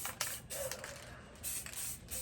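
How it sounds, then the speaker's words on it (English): Purple spray paint hisses from an aerosol can onto a canvas in bursts, several short sprays with brief pauses between them, close and clear with no talking. "we're just gonna spray it kind of from an angle here, just so we can get a purple overview"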